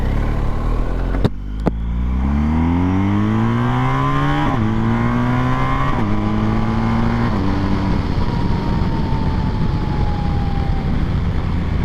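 An adventure motorcycle on a racetrack at sunset, its engine revving hard and climbing through several gear changes, then easing off as the bike passes into a steady drone, close and loud with no talk.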